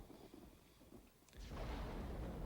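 A thunder sound effect for a film lightning scene in a horror movie: a sudden loud crack followed by a heavy, sustained rumble that swells and fills the space.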